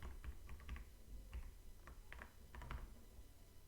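A password is typed on a computer keyboard: quiet, close, irregular bursts of key clicks with short pauses between groups of strokes, no voices.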